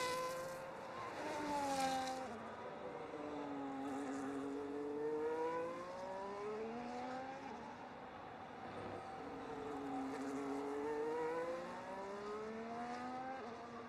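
Several F1.5 race cars in a sim racing game round the Singapore street circuit, engine notes rising and falling in sweeping pitch arcs as they brake and accelerate through corners, with the rears locking; steady, fairly loud, no talk.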